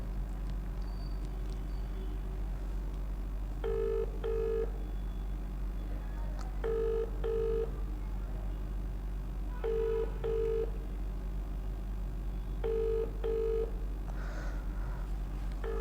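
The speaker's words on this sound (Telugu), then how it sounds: "సో ఫోన్ అయితే లిఫ్ట్ చేయట్లేదు." A phone call goes out to a doctor and is not picked up: paired ringback tones repeat at regular intervals over a constant low hum, with faint background noise between rings.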